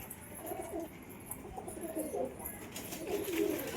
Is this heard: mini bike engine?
no